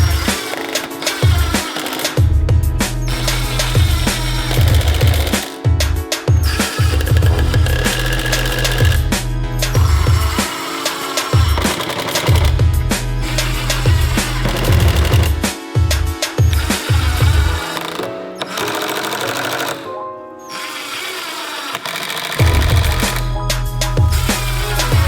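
A power driver sinks 1 5/8 inch screws to assemble a wooden router bit case, whirring in repeated short bursts with brief pauses between each screw.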